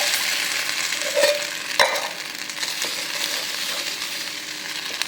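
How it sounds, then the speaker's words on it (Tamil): Hot tempering sizzles as it goes into a watery Madurai thanni chutney, then a steady stirring follows, with a brief clink of a utensil against the pot partway through. "இப்போ ஊற்றி ஒரு நிமிஷம் சும்மா ஒரு கலக்கிட்டு நம்ம பாத்திரத்தை மாற்ற வேண்டியதான்."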